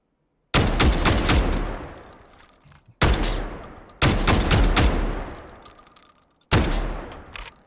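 Saga XII semi-automatic weapon in the video game Delta Force fires in a few spaced bursts of rapid, loud shots, each group ending in a long ringing decay before the next volley starts.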